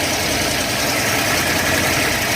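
A brand-new 455 cubic-inch Pontiac V8 topped with two 850 CFM carburetors idles steadily, a loud, continuous rumble with no voices over it.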